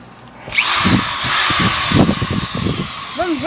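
Homemade power drill with a thickened bit whirs loudly and steadily at high pitch for about three seconds, starting abruptly after a short quiet moment, with faint voice sounds beneath it.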